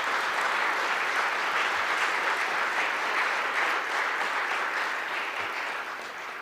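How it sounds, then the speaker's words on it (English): Audience applause at a Veterans Appreciation Day ceremony following a color guard presentation, a steady, full round of clapping from a large crowd that carries on throughout and eases off slightly at the end. "Let's give them one more round of applause."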